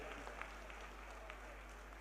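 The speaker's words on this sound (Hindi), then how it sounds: "मैं चाहूंगा सभी तालियों की गड़गड़ाहट से अभिनंदन करेंगे, स्वागत करेंगे" Audience applause welcoming a chief minister at a Punjabi community event in a banquet hall, faint, steady crowd clapping with a low background hum.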